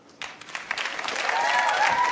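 An audience applauds to vote for a two-ball juggling trick at a magic show, the clapping starting sharply and swelling into a steady, fairly distant wash of many hands.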